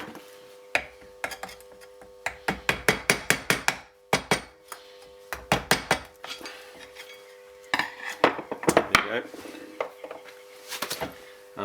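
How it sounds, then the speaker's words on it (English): An old screwdriver levers the old oil seal out of a rear suspension hub on a Lotus Elan M100, making rapid bursts of sharp metallic clicks and scrapes with brief pauses between them. "just get an old screwdriver and lever the old oil seal out"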